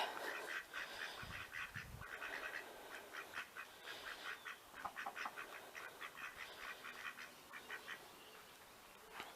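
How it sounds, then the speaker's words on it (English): Wild ducks quacking in a garden, a steady run of repeated quacks from several birds at close to moderate distance, with a couple of low thumps early on and no talk. "These are all wild ducks"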